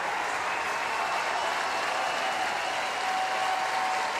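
A large arena crowd applauds steadily as wheelchair para table tennis doubles players leave after a semifinal, a dense, even wash of clapping with no voices standing out.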